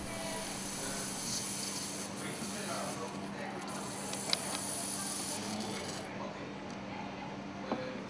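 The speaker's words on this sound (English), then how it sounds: "Insert compressed air through the non-return valve to lift up the piston." Compressed air hisses steadily through the non-return valve of a MAN B&W MC engine exhaust valve during overhaul, lifting the piston. The hiss is a continuous, even rush with a couple of faint clicks.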